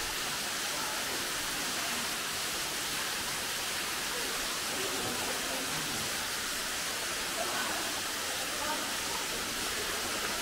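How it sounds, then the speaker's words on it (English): Waterfall pouring into a gorge pool at the end of a walk in Purnululu National Park, a steady, loud broadband rush of falling water holding constant throughout, with no breaks or other sounds rising above it. "Okay, it's a waterfall."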